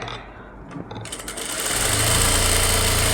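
Sewing machine stitching a seam in a synthetic lining for a blouse, starting with a few soft mechanical clicks and then settling into a loud, steady, rapid whirring run. No voices are heard.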